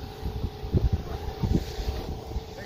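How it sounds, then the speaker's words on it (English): Strong wind blowing across a homestead food forest, gusting rumble buffeting the microphone in uneven bursts, fairly loud with a faint steady hum behind. "very windy today"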